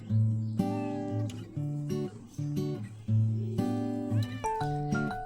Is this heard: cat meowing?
yes